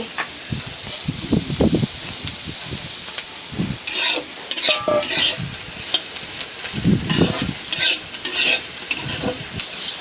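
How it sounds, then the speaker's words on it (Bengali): Bitter gourd and potatoes frying in a pan, with a steady sizzle broken by repeated scraping and stirring strokes of a spatula and light clinks against the metal, close up and fairly loud. "উস্তা দিয়ে আলু দিয়ে ভাজা হয়ে গেল"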